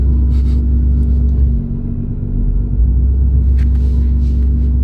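A Nissan R35 GTR engine rumbles low and steady from inside the car while being driven, easing briefly midway before rising again, with no voices.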